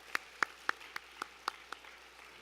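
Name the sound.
audience applause at a school vesting ceremony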